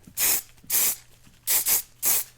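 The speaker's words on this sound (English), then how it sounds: "spray that big curl first" Four short hissing bursts of hairspray from an aerosol can, close by, the third one a quick double spray, with brief pauses between.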